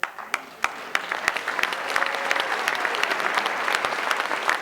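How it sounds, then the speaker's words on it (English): An audience breaks into applause at a talk, beginning with a few sharp, separate claps that quickly swell into sustained, dense clapping from a crowd. "Don't clap too long"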